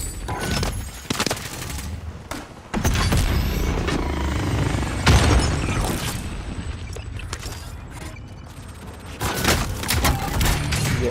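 Rapid bursts of gunfire and explosions from the video game Call of Duty, loud and close, with repeated rattling fusillades, heavy booms and a mechanical hum underneath throughout.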